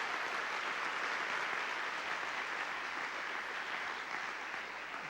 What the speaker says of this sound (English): let's give them a big round of applause